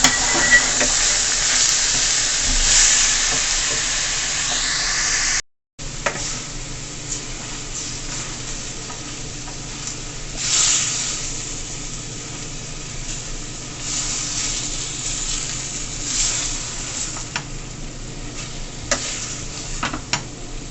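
Ackee and saltfish frying in a pan with pepper, stirred throughout, giving a steady close sizzle and hiss with scraping stir strokes. The sound drops out for a moment early on, then the frying continues alone for about twenty seconds.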